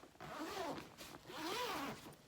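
A zipper on a fabric bag runs in two drawn-out pulls with a short gap between them, each a rising and falling rasp, close and fairly quiet, with no voices.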